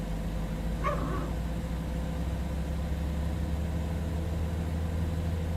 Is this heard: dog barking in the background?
yes